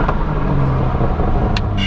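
A BMW M4 fitted with a full tube exhaust rumbles raspy and deep at low revs, close and steady, with a couple of brief crackling pops near the end.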